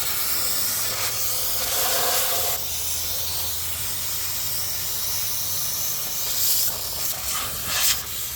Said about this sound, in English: I have a carburetor cleaner here